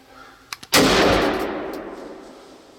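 A single loud hunting rifle shot outdoors, preceded by a couple of faint clicks, with a long rolling echo fading over about two seconds.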